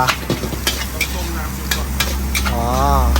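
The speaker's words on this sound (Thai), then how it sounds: "เดี๋ยวผัดทีละจาน" Crab fried rice being stir-fried one plate at a time makes a loud, continuous sizzle close by, broken by sharp scraping and clanking strokes of a spatula on a wok, with a voice speaking over it at times.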